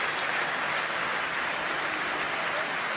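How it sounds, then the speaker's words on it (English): Hearts football supporters applaud in a stadium during a derby against Hibs, a dense, continuous wash of crowd clapping that holds steady throughout, with no commentary audible. "Applause from the Hearts supporters."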